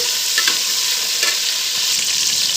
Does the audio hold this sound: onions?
yes